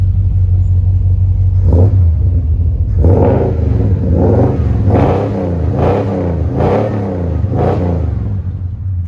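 A deep V8 engine in a 1969 Chevrolet El Camino idles with a low rumble, then revs repeatedly in strong bursts, loud and close.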